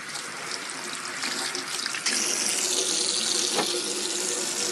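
A tap runs steadily while a child washes hands at a sink, with water splashing loudly and continuously and a faint soft knock partway through.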